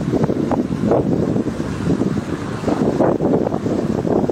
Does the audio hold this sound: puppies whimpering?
no